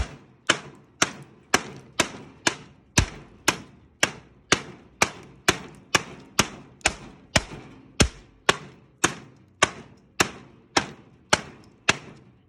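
A steady series of sharp chopping strikes from a Shade Indonesia Dark Horse 2 chopper knife on wood, about two per second, each a crisp thwack with a short ring, close and loud with no voices.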